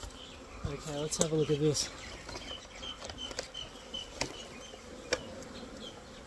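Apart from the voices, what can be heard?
honey bee swarm buzzing in an opened hive box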